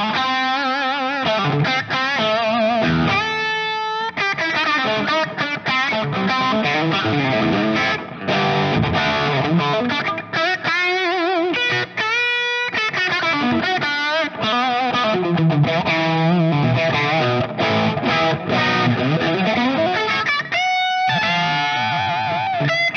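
Overdriven electric guitar played through a Dude drive pedal into an amplifier, with the drive set just under noon; sustained distorted chords and riffs ring out loud and continuous for the whole stretch, with no talking.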